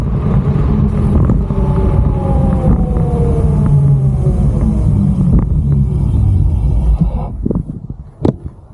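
Lightning 3.0 dual-motor electric scooter riding and then braking, a steady loud rumble of motor and wind with whining tones that sweep down as it slows, tapering off near the end.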